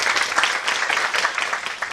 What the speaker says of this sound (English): Please join me in welcoming Mr. Deepak Mehra with a huge round of applause